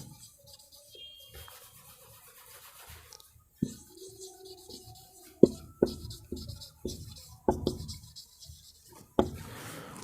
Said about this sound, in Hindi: अब मैं 7वां नंबर यहाँ से लिखना शुरू करता हूँ